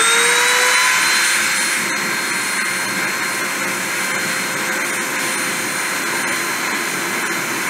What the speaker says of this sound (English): I'm going to spin the spindle up and try a deposition